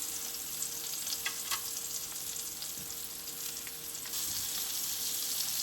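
A ribeye steak sears in a hot pan with a steady, close crackling sizzle that runs throughout, broken by a few sharper pops and spits.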